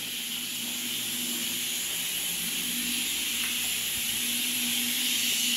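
Pressure cooker cooking beans on a gas stove gives a steady, continuous steam hiss that holds at an even level throughout, recorded close up with no talking.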